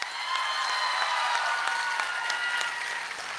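A seated audience at a comedy event gives a continuous burst of dense clapping for an honoured teacher. The applause is steady and moderately loud, with no voices over it.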